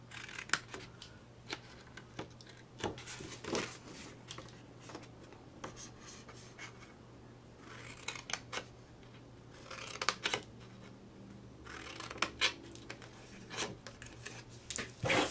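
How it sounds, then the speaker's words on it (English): Scissors snip notches into a scored paper card box, with crisp isolated clicks and cuts in irregular clusters over a quiet room and light paper rustling. "We're just going to snip, and then I cut out little notches."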